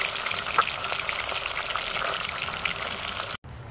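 Fish from a spearfishing catch frying in a pan in Jamaica: a steady, dense sizzle crackles close up and unbroken for several seconds, then stops abruptly near the end.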